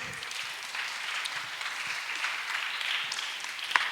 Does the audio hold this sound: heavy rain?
no